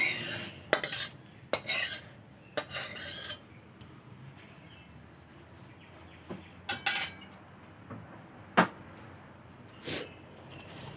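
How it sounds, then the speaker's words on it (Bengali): Tadka being stirred and mixed into food in a metal pot, with sharp clinks and scrapes of a utensil against the pot coming in irregular bursts over a quiet background, close and fairly loud. "খুব ভালো করে মিশিয়ে নেব"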